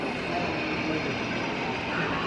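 A coal-laden freight train passes through a depot, making a steady, dense rumble and roar that stays loud and even from start to finish.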